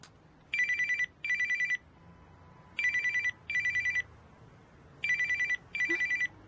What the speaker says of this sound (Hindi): फोन क्यों नहीं उठा रही?